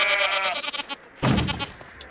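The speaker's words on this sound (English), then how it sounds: "These are apparently Passover lambs being sold." Passover lambs bleating in the video game I Am Jesus Christ, two short wavering bleats in quick succession, close and fairly clear against a quiet background.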